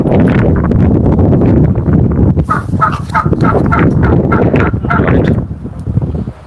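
A large turkey on a farm gobbles in a quick rattling burst, loud and close, over constant wind buffeting the microphone.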